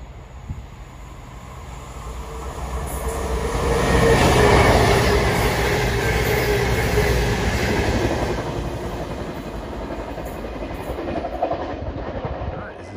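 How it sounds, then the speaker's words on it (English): A cross-country passenger train approaches at speed through the Congleton area, rising from a distant rumble to a loud close roar with rhythmic wheel clatter, then easing slightly as it carries on, with no talk. "Something might be coming up at speed. Cross-country service approaching."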